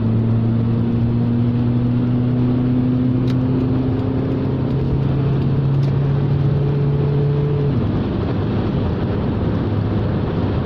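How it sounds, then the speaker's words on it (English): A Honda S-MX engine drones steadily under acceleration as its automatic gearbox kicks down, a loud in-car hum that holds, then shifts pitch near the end. "let's see what happens when we kick down"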